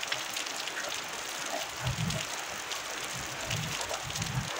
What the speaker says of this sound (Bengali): জোরেই বৃষ্টি এসেছে।